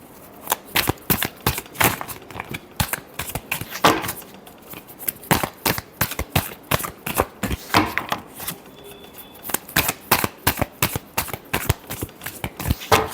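Tarot cards are shuffled by hand in a quick, steady run of crisp riffling slaps and flutters that continues throughout, close and fairly loud, with no one speaking.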